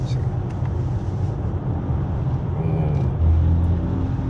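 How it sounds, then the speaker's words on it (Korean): A steady, low engine drone fills the cabin of a BMW i4 M50 in sport mode, a deep humming exhaust note holding constant with a slight swell near the end. "배기도 뭐 웅웅거리네"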